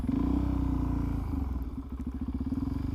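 Suzuki DRZ400SM supermoto motorcycle rolling and then pulling away, its single-cylinder engine close and loud, settling into a rapid pulsing beat as it gathers speed.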